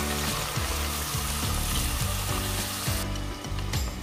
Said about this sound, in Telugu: ఇవి మంచిగా ఫ్రై అయ్యేటంత వరకు ఫ్రై చేసుకోవాలి.